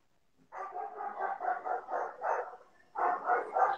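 Several dogs bark at a distance, faint and muffled, in a run of repeated barks that pauses briefly and then resumes, with no one speaking.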